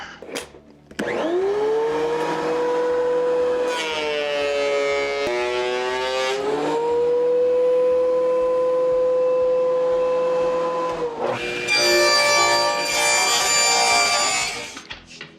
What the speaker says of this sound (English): First thing we're gonna do is send this through the planer.